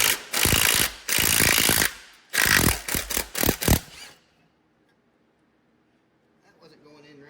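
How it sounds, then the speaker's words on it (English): A bolt being threaded into a bracket on an Allis Chalmers WD45 tractor while installing a rear remote: bursts of close, rapid ratcheting clicks in several short runs, followed by near silence. "So let's thread this one in a little ways."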